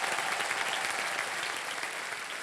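A studio audience on a television quiz show applauds loudly and continuously, a dense, even wash of clapping with no voices above it.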